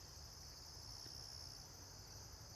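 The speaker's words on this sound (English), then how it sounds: "The peepers are louder than normal," A chorus of spring peeper frogs calls outdoors on a buggy day, forming a faint, steady high-pitched trill that runs unbroken and fairly distant, with no voices.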